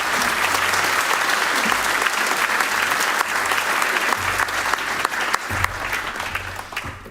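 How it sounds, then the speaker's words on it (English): An audience applauds warmly to welcome Frans Timmermans at a European Dialogue event. The clapping is loud, dense and sustained, fading slightly toward the end. "A warm applause to Frans Timmermans."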